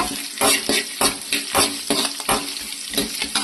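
Onions sauté in a pan with sizzling oil, while a spoon scrapes and stirs in rhythmic bursts roughly every half second, close and clear.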